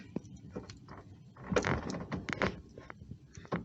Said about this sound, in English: if I close the door, the arm of the stay slides in and out